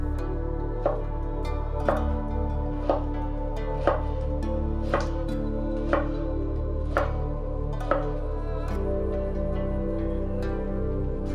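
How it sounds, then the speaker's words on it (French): A knife cuts cored pineapple flesh into half-centimetre slices on a board, giving about ten evenly spaced, crisp knocks roughly one second apart against a steady low background hum. "retirez le cœur et coupez en tranches d'un demi centimètre d'épaisseur"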